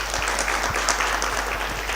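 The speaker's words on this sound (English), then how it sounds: "Another round of applause" A lecture-hall audience at a university humanities spring lecture gives a round of applause, dense continuous clapping that stays steady and full throughout, heard alone without talk.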